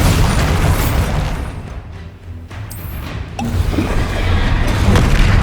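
Loud booming blasts from a Bombarda spell in Hogwarts Legacy, heavy low-end explosions in a busy, continuous battle soundscape, with a voice casting over it.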